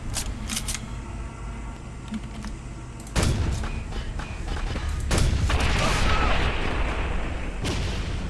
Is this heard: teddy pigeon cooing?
no